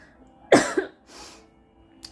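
A single sharp cough from someone with a cold, close and fairly loud, followed by a softer breathy exhale and quiet room tone.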